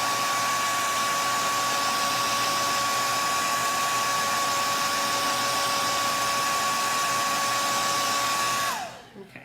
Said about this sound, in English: I'm going to grab my blow dryer. I had to think about where did I put my blow dryer. We're going to dry this up a little bit.